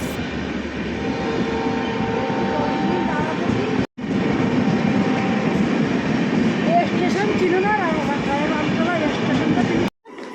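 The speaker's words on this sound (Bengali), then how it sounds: "আমরা ট্রেনে উঠবো গাইস" A train at a railway station late at night gives a steady, loud rolling rumble that fills the whole stretch, broken by two brief dropouts, with voices audible over it.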